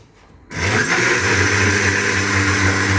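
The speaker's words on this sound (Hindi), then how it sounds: "कि आप इसे ब्लेंडर भी करेंगे और इसकी बहुत मज़ेदार किस्म की प्यूरी बन जाएगी ये।" An electric blender switches on after a short quiet moment and runs loud and steady, pureeing strawberries for eggless homemade ice cream, with a constant close whirring roar.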